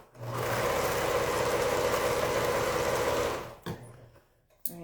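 A sewing machine stitches quilt fabric in one steady, close, whirring run of about three seconds, then stops, leaving a few faint clicks and handling sounds.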